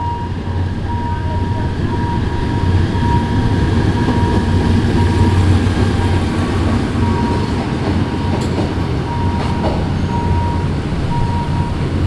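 A loud steam locomotive train rumbling past nearby, with a continuous low roar, rattling wheels and faint squeals, no voices.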